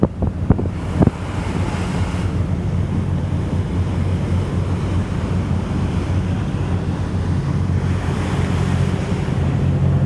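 Choppy harbour water churns beneath the Star Ferry crossing Hong Kong's narrow harbour, a loud continuous wash of surf with wind rushing over the microphone and a few sharp knocks at the start.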